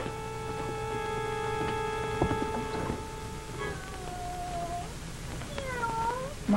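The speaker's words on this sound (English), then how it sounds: "My cat" A cat meows a few times, with rising and falling cries near the end, over a steady electrical hum and faint background noise in an old radio-style drama.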